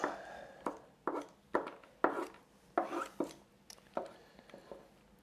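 Pumpkin being hollowed out with scoopers, giving a string of about nine close scraping, squelching strokes in an uneven rhythm, each a short burst that fades, with no talk over them.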